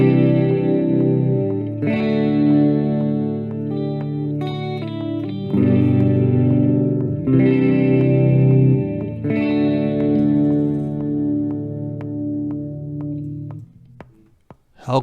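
Electric guitar through a Positive Grid Spark 40 amp with effects, strummed chords and single-note fills with a thick modulated, distorted tone that sustains loudly for about fourteen seconds, with no voice.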